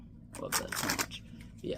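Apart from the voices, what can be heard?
perfect shuffle of Fontaine Slime edition playing cards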